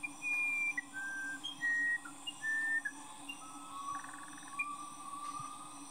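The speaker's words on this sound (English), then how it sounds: "Not only does the song of the musician wren sound like a lot of Western music" A musician wren (Cyphorhinus arada) sings in a Neotropical forest, clear pure whistled notes in short phrases at varying pitches, fairly close and prominent over a faint background hum of insects.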